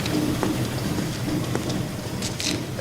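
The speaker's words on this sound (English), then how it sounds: "He's operating what's called a drum seed treater machine. It rotates." Rotating drum seed treater, like a cross between a smoker and a cement mixer, tumbling soybeans while applying Lumigen seed treatment: a loud, steady rushing rattle like heavy rain, with scattered small clicks and no talk.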